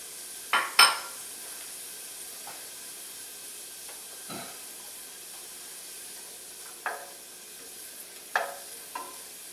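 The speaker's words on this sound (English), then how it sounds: "I want to give the onion just a little bit of a head start." About three quarters of a cup of chopped sweet onion sautéing in a pan gives a quiet, steady sizzle and hiss, broken by occasional scrapes and knocks of stirring at close range.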